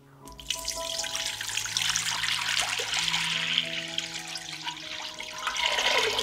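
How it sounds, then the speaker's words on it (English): Water pours into a pot from a tap, a continuous splashing gush that rises in pitch as the pot fills. "I pour 2 liters of water into the pot."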